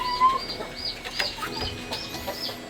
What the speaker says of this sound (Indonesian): Tuh, ayamnya sehat-sehat.